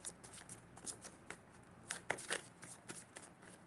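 Tarot cards are shuffled during a live reading, making soft riffling and slapping bursts at an uneven rhythm. The sound is close and quiet, with no talk.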